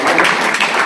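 Audience applause at a school talk show, a short, loud burst of many people clapping close by.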